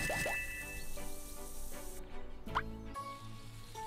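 Cartoonish watering splashes and drips from a garden plot in the My Talking Tom Friends video game, a few quick squishy water plops scattered over a few seconds against a bright game music background.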